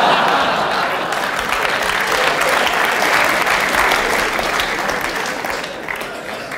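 A comedy club audience breaks into sustained, loud applause, a dense wash of clapping that holds steady for several seconds and tapers slightly near the end.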